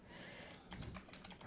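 Quick, soft keystrokes on a computer keyboard tap in a light, irregular run, close and quiet against faint background hiss, while someone types a web page heading.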